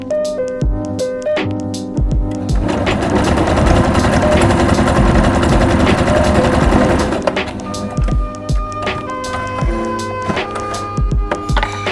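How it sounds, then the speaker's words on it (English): A sewing machine runs while stitching masks at home, a loud continuous rattling hum with rapid mechanical clatter that steadies through the middle, flanked by stop-start runs and clicks. "this is where I usually work with the sewing machine over there"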